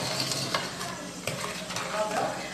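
Peanuts are stirred in a hot pan for a sweet praline, scraping and rattling continuously against a steady sizzle at close range.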